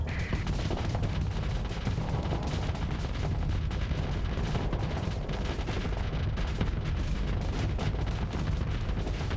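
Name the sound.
torpedo and weapons fire in video game Starsector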